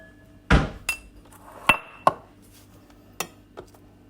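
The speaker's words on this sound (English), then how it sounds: "Let me grab a bowl to put these in." A kitchen bowl is picked up and set down while preparing chilli con carne, giving a few sharp ceramic clinks and knocks spaced irregularly, close and otherwise quiet.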